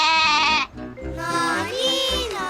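A cartoon goat gives two wavering, nasal bleats: a short one, then a brief pause, then a longer, rising and falling cry, with light background music underneath.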